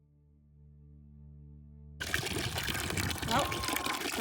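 Tap water starts running after a water main leak repair, a steady rushing splash that abruptly follows a quiet hum and continues at moderate level.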